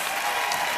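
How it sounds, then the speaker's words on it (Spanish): A big crowd applauds the drag queens at the Carnaval de Las Palmas de Gran Canaria gala, a dense, loud wash of clapping that fills the whole short moment without letting up. "Un aplauso muy grande."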